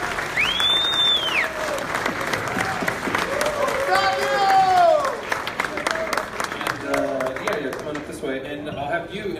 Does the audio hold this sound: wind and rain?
no